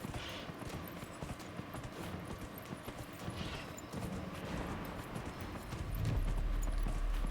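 A horse gallops in the video game Dragon Age: Inquisition, giving a steady, fast clip-clop of hooves under a constant rushing bed of game sound. It runs the whole stretch and grows slightly louder near the end.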